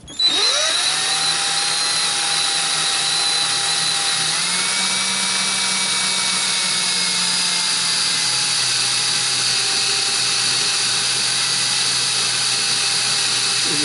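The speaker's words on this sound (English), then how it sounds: "Then after I drill the pilot hole, I can make the hole a little bit larger and make it more uniform." A power drill bores a pilot hole into pipestone for a Cherokee sacred pipe bowl, giving a loud, continuous close-up whine that holds steady for the whole stretch, its pitch shifting slightly midway as pressure changes.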